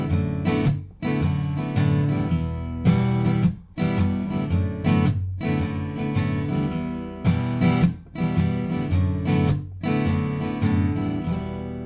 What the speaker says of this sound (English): one more time and play the original strum pattern